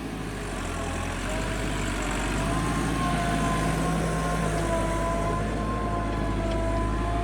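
A farm vehicle engine runs steadily in first gear, a loud continuous low rumble with a faint whining tone above it, close and unbroken, with no speech.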